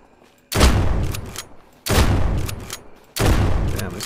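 A heavy weapon fires three loud, booming shots in SurrounDead, each about 1.3 seconds apart with a long rumbling tail, close and with nothing else heard between them.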